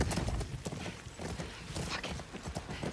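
Horse hooves clip-clop in The Last of Us Part II, a close, uneven run of hoof strikes with a whinny mixed in and some action noise around them.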